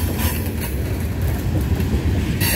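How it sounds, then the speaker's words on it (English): CSX freight train pulled by four locomotives rolling past close by, a loud, continuous rumble and roar of wagons with rail clatter throughout. "Four locomotives."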